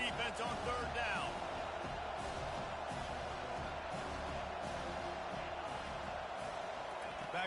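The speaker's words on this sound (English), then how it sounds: "Decibels rising as the crowd gets behind this defense on 3rd down." Large football stadium crowd roaring and cheering on third down for the defense during a Miami vs. Utah game, a steady, sustained wall of noise with a commentator's voice running over it throughout.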